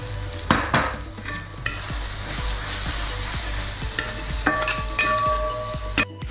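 Ground spice masala of chili, coriander, turmeric and pepper powders sizzles loudly in a pan for chicken roast, with steady frying hiss and repeated scraping, clinking stirs throughout.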